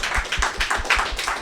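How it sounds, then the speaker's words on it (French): A small audience claps during a collège sports program in brief, lively applause. The claps come close together in a quick, uneven rhythm at moderate loudness, with no voices. "un tonnerre d'applaudissements aussi pour eux"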